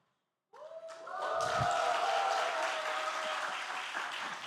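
A church congregation bursts into applause at a Sunday service after a moment of silence, with a dense, sustained wash of clapping and a brief thud near the start.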